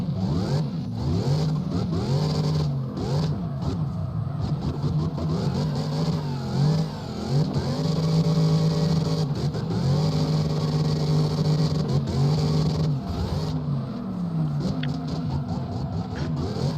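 A drift car's engine in CarX Drift Racing Online 2 revs hard and continuously, its pitch climbing and falling through repeated throttle blips and gear changes, loud and upfront with no talking.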